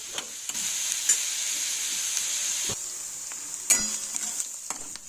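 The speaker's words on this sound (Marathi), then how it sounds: "कांदा आपल्याला गुलाबी रंगावर परतून घ्यायचा आहे" Onions sautéing in a pan for Mumbai street-style masala pav, a steady close sizzle with occasional louder scrapes and stirs of a spatula, no talking.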